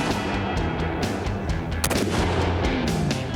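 Gunshots fired at a car's gas tank on an outdoor range, a series of sharp cracks with one loud close blast midway, over steady background noise.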